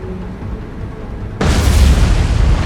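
A torpedo slams into an enemy ship in the naval game War on the Sea, a sudden loud broadband boom after a quiet stretch, followed by a sustained roaring rumble that stays heavy to the end.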